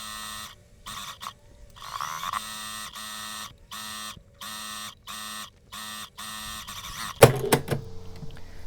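A sewing machine stitches the side seam of a midi dress with a finished waist belt tucked inside, running in a string of steady bursts with short pauses, then a louder clatter of handling near the end.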